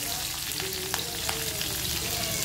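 Green chillies and cumin seeds sizzling in hot oil in a pan, a steady dense frying hiss broken by a few small pops and crackles, close and continuous with no talking.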